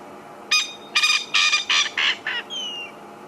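A wild bird calls on a sunrise safari drive in the Sabi Sand, South Africa: a series of six loud, harsh honking notes in quick succession, then a fainter whistled note, near and with no talk.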